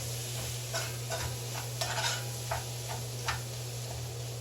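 Tomato paste is stirred into sausage in a pot for Dominican locrio. A spoon scrapes and knocks softly a few times over a low hum and a gentle sizzle.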